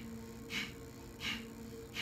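Three sharp nasal exhales of Kapalabhati breathing with the lips sealed, short hissing puffs spaced evenly, close-miked and quiet over a faint steady hum.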